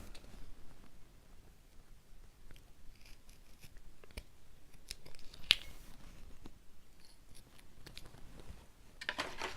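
Scissors trimming excess material on a St. Patrick's Day light-up craft jar, a series of sharp little snips and clicks scattered over quiet handling noise, close and soft.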